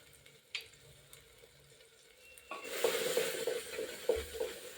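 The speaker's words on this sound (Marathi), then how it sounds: "हे सगळं मिश्रण आपल्याला एक जीव करून घ्यायचं आहे छान असं मिक्स करून घ्यायचं आहे" Spiced mixed-sprout usal is stirred in a pressure cooker: after a quiet start with a faint sizzle, a spoon scrapes and churns through the mixture in close, rustling, wet strokes with a soft sizzle underneath.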